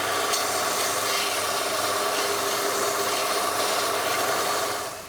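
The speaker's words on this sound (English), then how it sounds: "now let's sand it" A camel bone guitar nut for a Teisco guitar is sanded with a loud, continuous abrasive rasping that stays steady for several seconds and then eases off at the end, heard close with no talking.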